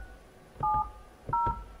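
Two short bursts of telephone keypad dialing tones, each a steady dual-tone beep, sounding clearly about half a second apart over quiet room noise.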